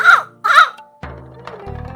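A person imitates a crow, giving two harsh, nasal caws in quick succession, close and clear, followed by faint background sounds.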